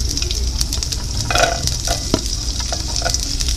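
Chopped onions and carrots sizzle in about a tablespoon of olive oil, a steady frying crackle with occasional scraping stirs and light clinks of a utensil against the pan.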